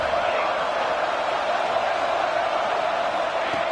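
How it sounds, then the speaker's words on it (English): Stadium crowd at a Nebraska versus Miami college football game, a loud, steady roar that fills the whole stretch without breaks. "The noise. This crowd is trying to inspire this defense to make a big red zone stop."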